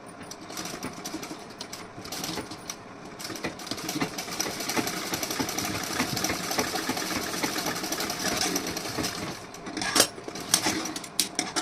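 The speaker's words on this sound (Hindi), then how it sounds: "अब यहाँ पे मैं सिलाई लगाऊंगी इस पर।" A sewing machine stitches fabric on a neckline design in a continuous, rattling run with small clicks and handling bumps throughout.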